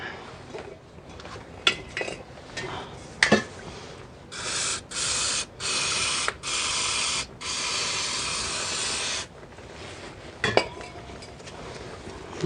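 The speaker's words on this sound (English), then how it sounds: "What I'm going to do now is just give it a spray over with some cleaner." An aerosol cleaner hisses onto Ford Mondeo Mk3 ST220 drive shaft parts in a series of short bursts followed by one long continuous spray, with a few metallic clinks before and after.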